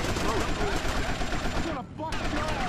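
Sustained automatic gunfire rattles in dense, rapid bursts during a biker gang shootout in the video game GTA Vice City Stories. The gunfire breaks off briefly near the end, then resumes at full volume.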